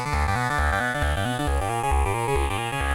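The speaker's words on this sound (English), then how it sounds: "an arpeggio. It sounds a lot like a guitar, but it's a synth" A synth arpeggio with a plucked, guitar-like tone steps quickly and evenly through repeating notes over a steady bass, with no voices. It is made in GarageBand.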